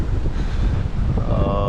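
Strong wind of about 28 knots on a sailboat, a loud buffeting rush with low gusty rumble from the wind striking the boat.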